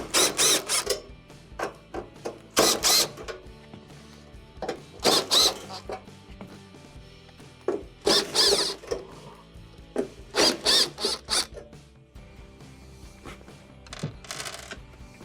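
Screws being removed with a screwdriver from the console panel of a Samsung stove, bursts of scraping and clicking separated by pauses, close and clear, with no speech.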